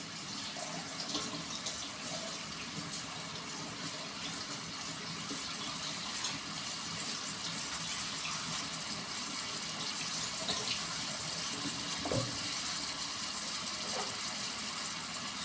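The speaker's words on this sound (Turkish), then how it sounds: "Şöyle bulgurumu yıkadım şimdi arkadaşlar." Bulgur is rinsed under running kitchen tap water, giving a steady, close hiss of flowing water into a sink with occasional splashes and clinks, with no talking.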